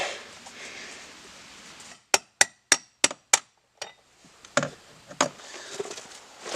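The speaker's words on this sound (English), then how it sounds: "Oh, I might have to use a hammer." A metal hammer strikes five quick, evenly spaced sharp blows, then lands a few softer, irregular knocks with light metallic clinks in a quiet room.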